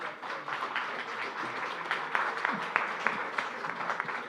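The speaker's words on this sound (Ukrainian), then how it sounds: "Прошу привітати оплесками мера Охтирки." Audience applause at an international forum in Lviv welcoming the mayor of Okhtyrka, sustained clapping from a hall of people at moderate level with a few sharper individual claps standing out.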